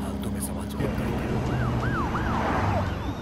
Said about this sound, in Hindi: पुलिस की गाड़ी आ रही है, नीचे छुप जाओ।